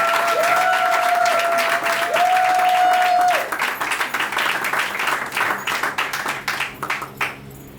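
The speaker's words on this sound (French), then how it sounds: "Veuillez applaudir pour ce choix," Guests at a civil wedding ceremony in Gabon clap together in a dense round of applause, joined early by two long sustained ululating tones, then thinning into scattered individual claps before fading out.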